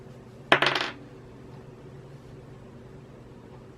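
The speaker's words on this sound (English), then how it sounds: "let's go ahead and roll my dice to see what I get" Polyhedral dice, a D8 and a D4, are rolled, making a short burst of sharp clattering rattles on a hard surface, nearby and brief, followed by quiet.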